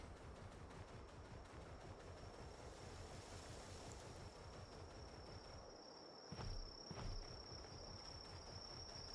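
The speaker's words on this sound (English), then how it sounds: "I like how I hear crickets" Steady crickets chirp continuously through the whole stretch with a constant high trill, blended with a low rushing wind or surf-like background on a stormy day; a couple of brief low thumps near the end, no talking.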